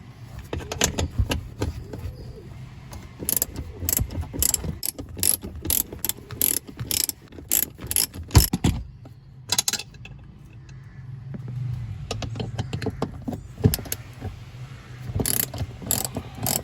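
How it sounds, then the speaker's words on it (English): A triple square bit on a 1/2 inch ratchet with an extension clicks in quick bursts of ratcheting, close and crisp, while a fitting is worked loose in a VW Polo 6R interior. "So I have this triple square bit secured to my 1/2 inch ratchet with an extension"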